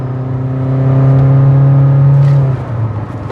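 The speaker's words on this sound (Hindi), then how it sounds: "तो एक बार गाड़ी का पंच चेक कर लेते हैं कि स्पोर्ट्स में कैसा पंच देखने को मिल जाता है।" A Kia Sonet GTX+ car accelerates hard in sport mode, its engine note rising in a loud, steady drone that climbs then drops at a gear shift near the end, heard close with no talk.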